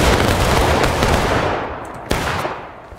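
Rifle volley crashes out on command in a skirmish shooter game, a dense burst of gunfire rolling through the opening second and a half, tailing off, then one sharp late report cracks before the echoes fade.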